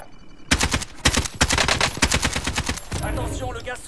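Automatic weapon fire in the video game Warzone: rapid, loud bursts of close machine-gun shots for several seconds, then a sustained rumbling tail as the firing stops.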